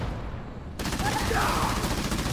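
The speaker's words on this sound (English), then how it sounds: "Hornet under fire from enemy ground troops!" Enemy ground troops fire on a Hornet aircraft in Halo Wars 2, a burst of rapid gunfire that starts suddenly and rattles on for a couple of seconds at moderate level.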